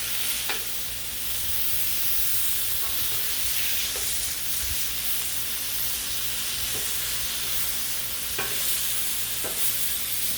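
Bacon sizzling on a Blackstone griddle, a loud continuous hiss and crackle of frying fat with a few faint scrapes of a spatula, no voices.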